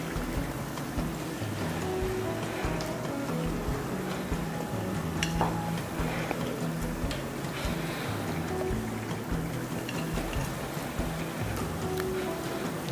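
Chicken cheese rolls frying in hot oil, a continuous dense bubbling sizzle held at an even level with no talking.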